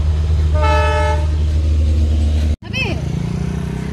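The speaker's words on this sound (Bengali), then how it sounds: "ওই যে ট্রেন গাড়ি আসছে" A train passes near a wetland lake in Assam, its horn sounding in a long, loud, steady blast over the rumbling of the moving train, with a further short horn note after a brief break.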